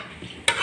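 An egg roll flatbread frying on a griddle gives a brief soft hiss that jumps into a brighter, louder sizzle partway through, close and without any voices.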